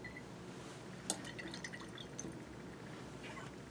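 Liquid drips into a glass flask during a lab titration, a few faint, sparse drops and small splashes over a low steady room hum, with no one talking.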